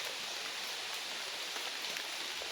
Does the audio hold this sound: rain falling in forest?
yes